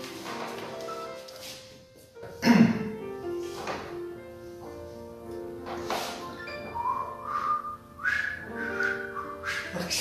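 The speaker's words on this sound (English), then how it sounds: "You can't whistle and laugh at the same time." A person whistles a tune in short melodic phrases, close and fairly loud, with a single dull thump early on and brief pauses between phrases.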